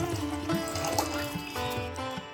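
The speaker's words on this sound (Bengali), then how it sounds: "এর মধ্যে একটা অ্যালুমিনিয়ামের পাত্র বসিয়ে দিলাম ও তাতে প্রায় এক লিটারের মতো ফ্রেশ জল আমি অ্যাড করলাম" Fresh water poured into an aluminium pot on a stove, a continuous splashing trickle with rising tone as the pot fills, close and moderately loud, nothing else audible.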